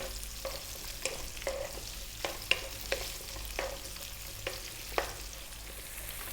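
A cup of chopped onion fries in a pan over above-medium heat, a quiet steady sizzle broken by about a dozen short scraping stirs at a loose, irregular rhythm.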